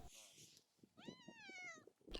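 A wild mountain cat meows once in a long, rising then falling call, fairly close and clear, with soft rustling and murmured background noise around it.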